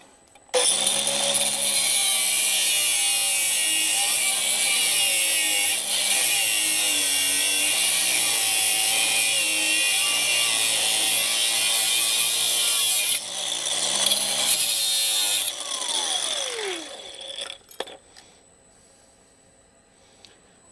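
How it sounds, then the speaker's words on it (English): Power tool grinding and cutting through a seized truck wheel bearing and nut on a damaged spindle, a loud, continuous high-pitched whine for about fifteen seconds that fades to quiet, close up with no talking. "I'm going to try cutting through this bearing"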